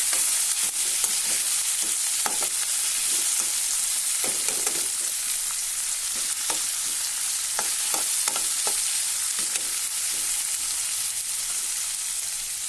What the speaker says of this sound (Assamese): সেইটো কাৰণে মই প্ৰথম বিলাহীটো ভাজি দিম